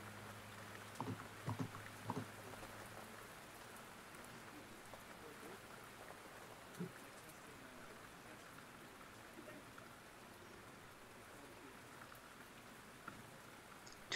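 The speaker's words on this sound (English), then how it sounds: "Turn the rain up, all right." Steady rain falls on a surface as a continuous hiss, with a few brief knocks and clicks near the start and scattered faint taps, fairly quiet throughout with no one speaking.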